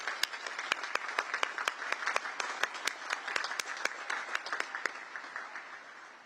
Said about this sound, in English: How about one more round of applause for our parents out there?